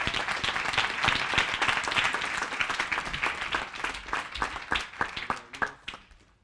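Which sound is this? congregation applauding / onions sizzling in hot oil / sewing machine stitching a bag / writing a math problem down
congregation applauding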